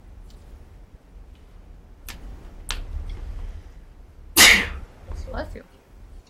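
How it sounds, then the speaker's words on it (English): A single loud human sneeze bursts out in a quiet room, preceded by a few faint ticks and small sounds, with a quieter trailing noise just after. "You need to sneeze? I need to sneeze. It keeps coming and it goes."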